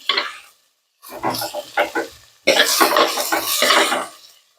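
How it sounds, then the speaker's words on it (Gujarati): Chopped potatoes with garlic and turmeric are stirred in a sizzling pan for Gujarati potato shaak, giving loud, close bursts of scraping and frying separated by brief silent pauses. "હળદર અને સમારેલા બટેકા, આ બધું મિક્સ કરી લેવાનું।"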